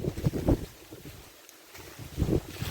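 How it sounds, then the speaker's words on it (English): Wind gusting through a thinned stand of cleared weed trees, loud blustery rushes with microphone buffeting that swell, ease off in a brief lull, then surge again, no talking. "You can actually feel the wind coming through here now."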